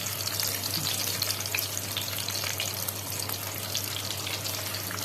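Bread fries in rendered caul fat in a hot pan, making a dense, even sizzle with fine crackles that holds steady and close throughout, with no voices.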